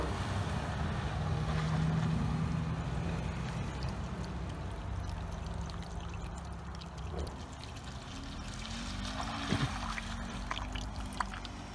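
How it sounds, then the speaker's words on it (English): Head gasket sealer pours from its container into a car's coolant, a steady liquid stream gurgling continuously at close range with a low background hum. "The whole container I'm going to put in."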